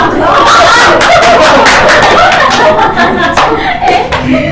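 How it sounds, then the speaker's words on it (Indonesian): Pupils in a classroom clap for their teacher during a microteaching lesson, loud close rhythmic hand claps mixed with chuckles and excited voices. "Tepuk tangan untuk guru."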